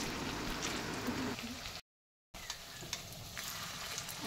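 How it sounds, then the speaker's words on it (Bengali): Vegetarian fish made from soybean being turned over and fried in oil, a continuous close sizzle with light stirring clatter, broken by a brief silent gap, no one talking. "তারপর দেখো, উল্টে পাল্টে ভালো করে ভেজে নিচ্ছি"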